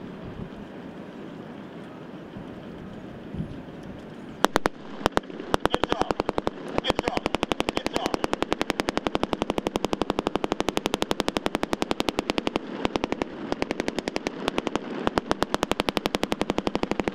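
Sustained rapid machine-gun bursts at a special operations forces exercise demonstration in Tampa. Faint wind and crowd noise come first, then a few single shots and long, dense automatic fire that goes on to the end.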